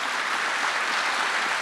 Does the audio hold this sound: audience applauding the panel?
yes